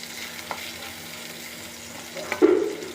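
Ginger sautéing in sesame oil with curry leaves, a soft steady sizzle with a light stir near the end, close and alone without voices.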